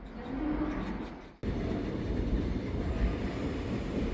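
A Seoul subway Line 7 train runs with a steady, loud rumble of wheels and rail noise, briefly cutting out near the start before the rolling roar resumes and holds evenly to the end.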